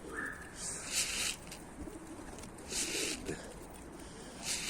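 Mardin pigeons coo softly in low, faint calls, mixed with a few brief bursts of broadband noise that could be wing flutter, with no talking.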